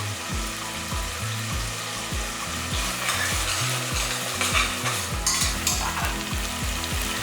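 Whole onions sauté in oil in a pan while a head-meat curry is being made, giving a steady close sizzle with repeated stirring and scraping strokes throughout.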